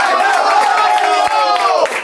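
Opposing fans chant in a football video game tournament match against Napoli, a loud, sustained crowd chorus with a rising and falling melodic line, close and continuous for about two seconds.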